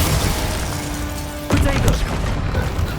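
The Bombarda explosion spell from Hogwarts Legacy goes off as a loud booming burst over dense game noise, with a sharp impact about halfway through followed by rumbling debris.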